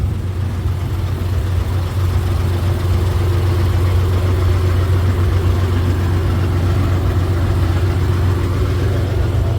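An Isuzu Deca 320 truck with a Japanese engine idles steadily and close by, a constant low rumbling drone with no change in pitch or speed throughout.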